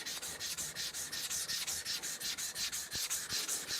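An iron-clad Japanese knife bevel is rubbed back and forth on a sharpening stone, a steady rhythmic scraping of about fifteen even strokes, close and fairly quiet, with no voices.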